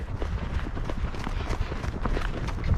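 Rapid hoofbeats from a young horse ridden on an outdoor trail drum continuously and close, a fast rhythmic thudding with wind and rustle around it.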